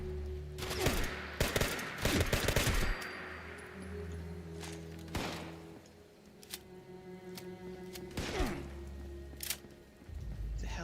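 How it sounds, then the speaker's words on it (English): Scattered gunfire from an unseen shooter in Fallout 76, with a dense burst of shots early on, then isolated sharp cracks spaced several seconds apart over a low ambient hum, no talking. "Somebody's still taking pot shots at me, and I don't know from where."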